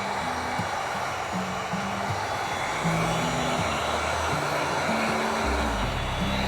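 A heat gun blows a steady, hair-dryer-like whoosh of hot air onto thick IR tint film on an SUV back window. The airflow holds continuously at a moderate level with no talk over it.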